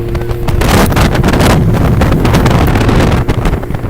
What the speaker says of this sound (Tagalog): The wind is coming from the right side.